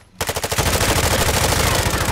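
Sustained automatic gunfire from Call of Duty: Modern Warfare II, starting abruptly after a brief quiet moment and continuing as a loud, dense, rapid burst of shots to the end.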